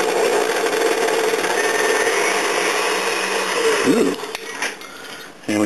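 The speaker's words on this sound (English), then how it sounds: "Let's get a little bit of the action on this very old KitchenAid mixer." A very old Waring blender whirs with a loud, steady motor drone that falters and winds down near the end, giving way to brief clattering and knocking.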